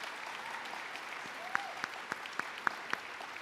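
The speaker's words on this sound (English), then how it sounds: "let's give them a round of applause" A middle school promotion ceremony crowd in the stands gives faint, distant applause: sparse, evenly spaced individual claps ringing out over a quiet background.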